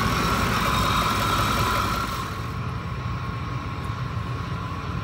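A 2004 Ford F-150 pickup with a power steering leak sits idling while warming up, a steady low engine rumble with an even hum, close and continuous with no talk.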